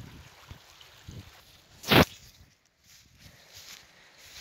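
Footsteps wading into the shallow water of the river Tus in the Sierra de Segura, with a few soft low steps, one loud splashy surge of water near the middle, then quieter trickling.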